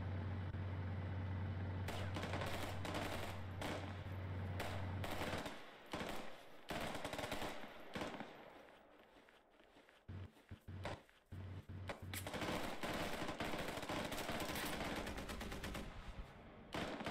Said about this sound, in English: I then proceed to watch my troops shoot for another minute or so.